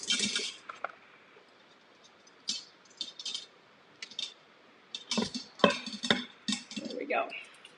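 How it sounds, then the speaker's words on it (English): An Instant Pot inner pan is lifted out and a second liner set in its place, giving a few sparse metallic clanks and rattles, close by and fairly quiet, with gaps of near-silence between them. "And then I'm gonna remove this pan. I'm gonna put this one in."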